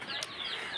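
Eight-day-old tiger chicken chicks cheep and peep softly in a continuous high-pitched chorus, heard alone and close by.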